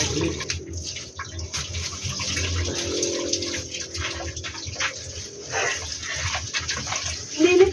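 Water running and splashing while dishes are washed at a beach campsite in Calatagan, Batangas, a continuous uneven flow close by with voices talking over it and a brief dog-like yelp near the end.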